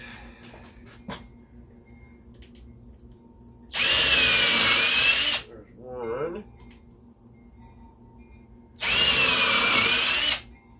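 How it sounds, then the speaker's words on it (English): A power drill whines through wood, pre-drilling for wood screws on a flower planter, in two bursts of about two seconds each, separated by a quiet gap with a brief spoken remark. "we got to pre-drill it"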